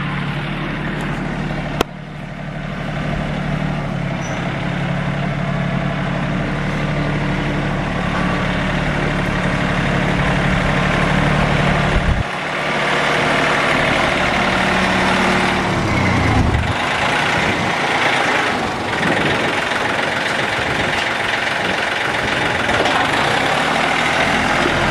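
A truck engine runs at a loud, steady idle for a long stretch while a 10-year-old boy backs a trailer, the deep rumble shifting briefly in pitch partway through.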